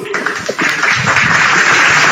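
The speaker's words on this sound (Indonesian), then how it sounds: "Tepuk tangan dulu." Audience applause breaks out at a religious debate gathering, a dense steady clatter of many hands that swells after a brief start and stays loud to the end.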